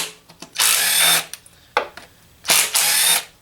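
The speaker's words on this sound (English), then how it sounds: "Here it is, removing some bolts from the valve cover itself." An Ingersoll Rand W1120 cordless 12V 1/4-inch impact wrench spins 10mm valve cover bolts out, with two loud, close bursts of rapid hammering, each about a second long, separated by short clicks and a brief trigger blip.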